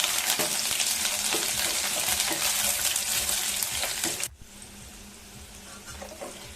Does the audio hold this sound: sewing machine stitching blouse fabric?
no